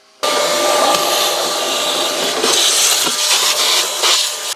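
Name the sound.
vacuum cleaning the air filter box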